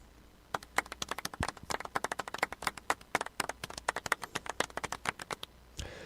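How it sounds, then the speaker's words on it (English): A small group claps in a room, a dense run of sharp, close handclaps lasting several seconds before tapering off, with no talking over it. "I expected more of a round of applause for that, you know."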